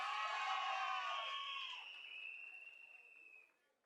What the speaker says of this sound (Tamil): நம்ம சிங்கப்பெண்ணை நல்லா கைத்தட்டி உற்சாகப்படுத்துங்கப்பா.